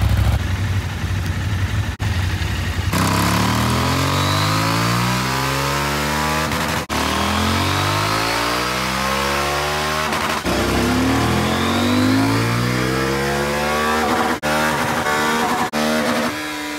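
A Husqvarna 901 Norden motorcycle engine revs repeatedly on a dyno, climbing steeply through the gears in a series of loud, close sweeps separated by brief drops.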